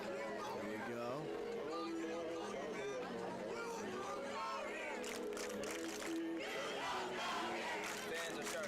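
Crowd at a varsity high school football game, Lake Howell versus Flagler Palm Coast, a steady roar of chatter and cheering voices from the stands, with louder cheering swells toward the end.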